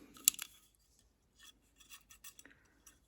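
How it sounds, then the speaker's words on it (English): A few small mechanical clicks close by as a CZ Shadow 2 pistol's safety clicks on and off, a sharp cluster at the start, then softer scattered ticks and scrapes in a quiet room. "the safety clicks on and off"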